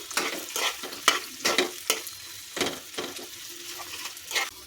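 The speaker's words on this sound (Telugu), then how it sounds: "అల్లం వెల్లుల్లి వేసాక కలుపుకోవాలి" Ginger garlic paste is stirred into eggplant curry frying in a pan for a Telangana-style dish. Repeated rhythmic spoon scrapes sound over a constant close sizzle, with no talking.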